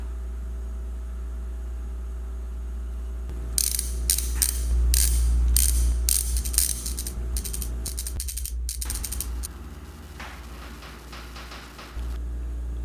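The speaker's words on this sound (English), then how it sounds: "we'll get our 5/16 hex or Allen wrench and remove the two main caliper bolts that are right here" A 5/16 hex Allen wrench works loose the high-torque rear brake caliper bolts on a 2015 Harley-Davidson Road Glide, giving close metallic clicks and ratcheting scrapes in a dense burst over a constant low hum.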